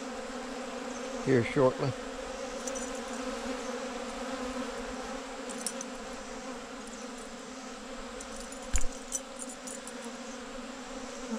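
Honey bees drone around cleaned honey supers stacked outdoors, a steady close buzz with a few louder passes near the start, brief knocks and a short spoken phrase partway through.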